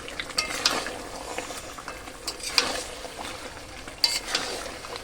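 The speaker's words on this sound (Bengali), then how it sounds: "এখানে চিকেন কষানো হচ্ছে চিকেন বসিয়েছি" Chicken cooks with spices, cumin, chillies and bay leaf in oil in a pan, giving a low sizzle under repeated spoon scrapes and light metallic clinks, fairly quiet and close with no voices.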